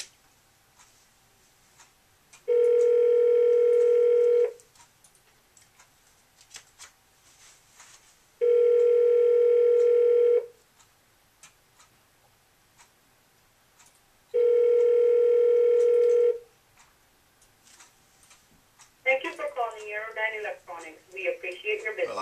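Three long, loud ringback tones on a telephone line, each lasting about two seconds with pauses between, followed by the start of a voicemail greeting in a voice.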